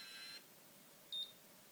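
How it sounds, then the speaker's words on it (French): Two short, faint electronic beeps from a Babyliss Curl Secret automatic hair curler, heard alone in a quiet room, the second slightly clearer than the first. "Vous allez avoir des petits bips,"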